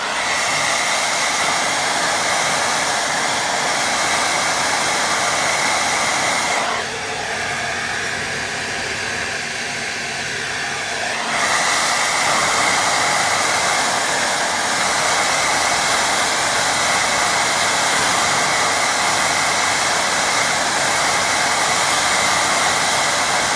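A hair dryer blows steadily and loudly over a watercolour painting of a lighthouse. The whoosh dips briefly partway through, then resumes its continuous roar with no voices.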